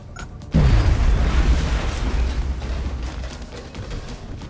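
A grenade explosion in the strategy game XCOM Long War, one sudden loud boom followed by a long rumbling roar that slowly fades, with no talk over it.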